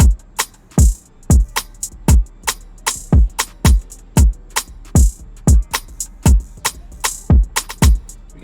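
Programmed drum beat for a Spanish guitar track, with steady kick and rim hits plus quick hi-hat rolls, looping in a bouncy, even rhythm, loud and close with no voice.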